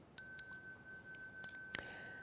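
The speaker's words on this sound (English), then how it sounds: "The bell sound" A small ritual bell is struck several times before a Buddhist sutra recitation, bright ringing tones with sustained, fading resonance over a quiet background.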